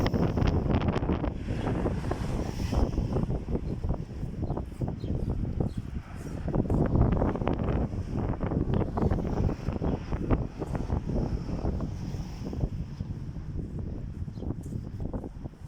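Strong wind buffets the microphone in continuous heavy gusts outdoors on an Easter Sunday morning in Medjugorje, a loud roaring rush with no voices.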